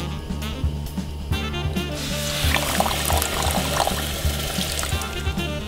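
Water pours steadily into a pan of sugar to make syrup, a continuous close splashing stream that grows fuller partway through, with no one talking.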